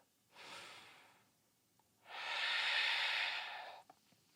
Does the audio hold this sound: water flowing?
no